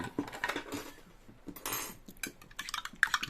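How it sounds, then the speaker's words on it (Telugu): A spoon clinks and scrapes against a cup or vessel while a spice and rock salt mixture is stirred into water to make buttermilk, light rhythmic metallic taps close by with no talk. "బాగా కలిపేసేయండి అంటే ఇది ఒక మజ్జిగలాగా తయారు చేసుకోండి"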